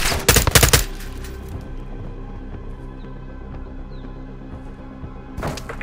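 Gunfire shooting something down in Modern Warfare II, a loud rapid automatic burst up front, a quieter stretch of background battle noise, then another burst starting near the end.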